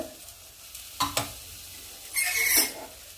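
Dried red chillies and coriander seeds fry in hot oil, stirred with a couple of sharp spoon scrapes against the pan, then a brief burst of loud sizzling that fades; no voices.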